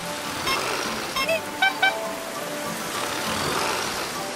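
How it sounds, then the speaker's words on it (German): Rain falls in a German children's cartoon about helper cars. A steady, even hiss of rainfall carries throughout, with a few short tonal chimes rising above it. "Bringt euch schnell vor dem Regen in Sicherheit."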